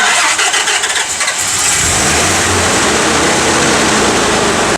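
A truck engine cranks and catches after a jump start from another car, then roars up to a loud, steady running rumble that fills the rest of the clip.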